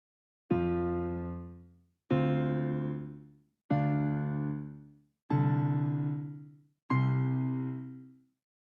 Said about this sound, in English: if we translate each of these light intensities into a pitch and kind of play them all together